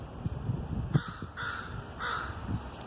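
A crow caws several times in separate harsh calls spaced across a few seconds, fairly close, over faint outdoor background noise with no talking.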